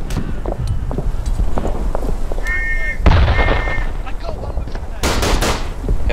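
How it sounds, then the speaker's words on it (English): Rapid, dull machine gun fire in the First World War shooter Verdun, firing in a steady stream of bursts among distant booms, with players talking over it. "I'm gonna get back on my machine gun and see if I can do some work from up here."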